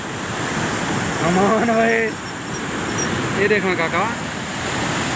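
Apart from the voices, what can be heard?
rushing river water at Taunsa barrage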